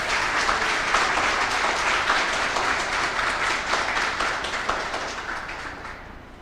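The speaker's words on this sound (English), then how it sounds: "Please give him another round of applause." Audience at a Patriotic Front political meeting in Claxton Bay applauding a candidate, dense sustained clapping from a large crowd that holds steady and then slowly tapers off toward the end.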